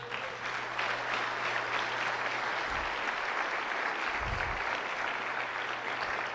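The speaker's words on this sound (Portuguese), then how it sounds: "Você pode aplaudir Jesus?" A church congregation applauds during a Portuguese-language sermon, a continuous rolling wash of many hands clapping, fairly distant and even, with a low tone humming beneath.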